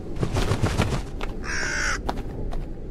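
A crow caws in a horror video game, one harsh, raspy call of about half a second standing out mid-clip over dense, rumbling game ambience.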